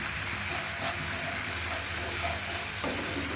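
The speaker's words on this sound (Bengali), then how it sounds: "এখন আমি মশলাটাকে সুন্দর করে কষিয়ে নেব। এই যে দেখেন, কষিয়ে নিচ্ছি।" Masala spices sautéing in a pan for a bottle gourd greens and snakehead fish dish, sizzling steadily and close with faint stirring scrapes, no voices.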